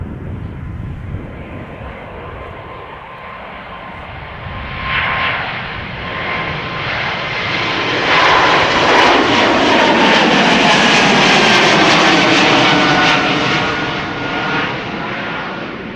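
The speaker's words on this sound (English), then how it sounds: "This is AirBaltic flight 618 going to Riga." An AirBaltic passenger jet departs Amsterdam Schiphol, its engines swelling from a distant rumble into a loud, sustained roar that peaks and holds, then begins to ease as the plane climbs away.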